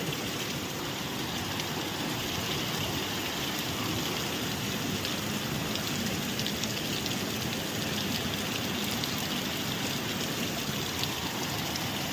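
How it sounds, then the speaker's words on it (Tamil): Heavy rain pours steadily and evenly, a dense hiss of drops drumming on surfaces that stays constant throughout, with no voices. "செம்ம மழை."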